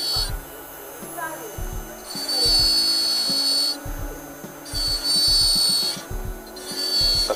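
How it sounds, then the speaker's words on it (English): A dental burr trims a die in a lab, a high-pitched whirring drill that rises and falls in repeated bursts, with someone speaking steadily underneath. "We slowly engage the burr, remaining all the while at least 2 millimeters below the free gingival margin."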